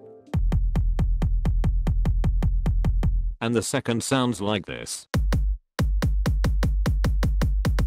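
Two kick drum samples in FL Studio play as a steady run of loud, evenly spaced booming thumps, and a voice speaks briefly between them.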